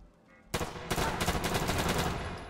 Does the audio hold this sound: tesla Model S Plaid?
no